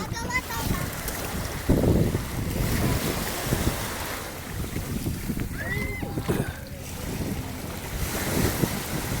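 Waves wash onto Dolomite Beach under gusty wind buffeting the microphone, a steady rushing roar with faint voices and boat noise mixed in.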